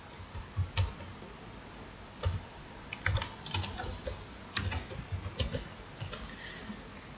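Typing on a computer keyboard during an online teaching session, with irregular bursts of clicking keystrokes and short pauses, close and moderately loud.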